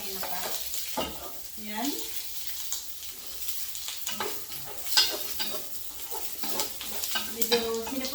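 Onion frying in oil in a pan, a crackling sizzle with scraping stir strokes, close and fairly quiet, with a single brief spoken word from a person.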